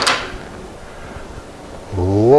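Microwave oven door being opened after a fuse replacement: a sharp latch click at the start, then a quiet pause before a steady tonal hum or beep rises near the end.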